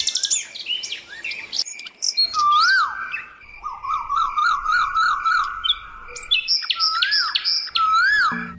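Macaw calling in the dinosaur park game Jurassic World Evolution 2: a close series of bright whistled chirps, rising trills and sharp squawks repeating irregularly over a faint insect background.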